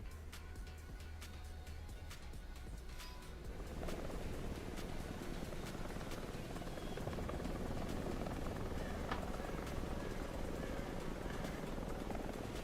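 Helicopter rotor and engine noise in War Thunder, steady and fairly loud, thickening after a few seconds into a denser broadband roar with scattered clicks and game effects on top.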